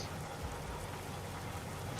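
Steady rain in a trucking video game on a mountain curve, a dense even hiss of falling drops that fills the whole stretch at a constant level, with no talk over it.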